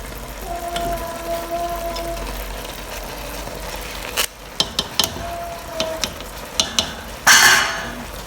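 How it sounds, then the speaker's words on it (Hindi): Boiled rice gently mixed into a reduced jaggery syrup in a pot: soft scraping and stirring with a few sharp utensil clinks, then a brief burst of bubbling sizzle near the end. "और इनको हम हल्के हाथों से मिक्स कर लेते हैं।"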